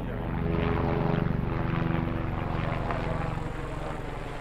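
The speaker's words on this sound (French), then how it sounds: "on profite d'une rotation d'ouvriers pour monter au refuge en hélicoptère" Helicopter flying workers and passengers up to a high-mountain refuge on an overcast late-July day, its rotor chop and engine drone close, loud and steady throughout with no speech.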